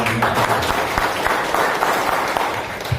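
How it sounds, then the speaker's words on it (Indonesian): An audience at an Indonesian seminar claps for the organizing committee, a dense, steady wash of many hands that stays even for the full three seconds. "tepuk tangan buat panitianya"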